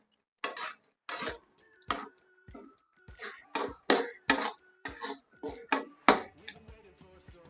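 A spoon scrapes and clinks against a metal pan while tomato rice is mixed. There are a dozen or so sharp, close taps in an irregular rhythm with brief ringing between them, and nobody speaks.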